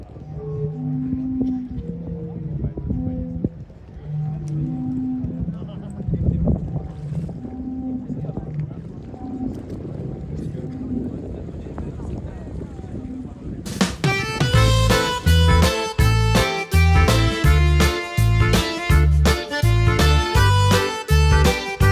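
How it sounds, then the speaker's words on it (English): Soft, breathy organ-like tones of the Zadar sea organ, played by waves, rise and fade over wind and lapping water, before bright rhythmic music abruptly takes over. "So we sat by the water on the stairs, enjoying the sea organ for quite some time"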